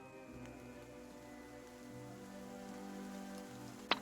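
Steady rain patters on a surface as a continuous, even wash of sound, with one brief sharp tap near the end.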